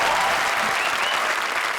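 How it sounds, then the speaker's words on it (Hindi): A studio audience at a live TV comedy show gives loud, dense applause that holds steady through the whole short stretch. "हो जाए जोरदार तालियां"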